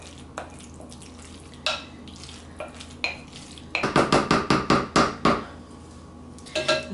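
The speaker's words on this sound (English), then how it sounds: "let's go ahead and stir that into our mixture" A spoon stirs an avocado mac and cheese mixture in a bowl, making scattered scrapes and clinks at first, then a quick run of sharp rhythmic knocks against the dish, fairly close and loud with no talking.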